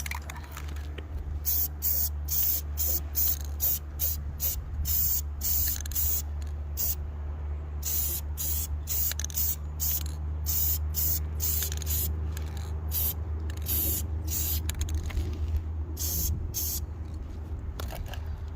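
Spray gun laying clear coat onto a boat trailer during a Bayliner restoration, a continuous close hiss broken by many short trigger bursts of varying length over a low steady compressor hum, no talk.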